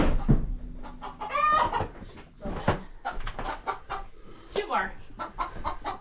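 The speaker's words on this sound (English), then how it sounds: "I hear a chicken already laying an egg." Hens clucking and squawking in a backyard coop as one lays an egg, a loud cackling run of calls, with a rooster-like crow near the middle and more excited clucks toward the end, close to the microphone.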